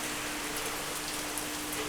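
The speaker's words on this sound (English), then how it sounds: "We could have been waiting for the Uber in this rain." Heavy tropical rain pours down in Puerto Plata, a dense, unbroken hiss of drops on surfaces, loud and steady throughout with no voices.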